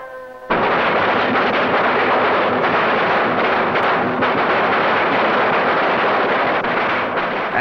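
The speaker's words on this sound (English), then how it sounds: "braving firecrackers thrown at their feet" A sudden, dense barrage of firecrackers bursts into continuous rapid popping and crackling, loud and close, lasting several seconds without letup, set off in the narrow streets of San Francisco's Chinatown during a Chinese celebration.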